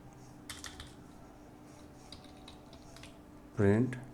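Faint, soft keyboard typing as a word of code is entered, a few light clicks in scattered bursts, followed by a brief voice at the end.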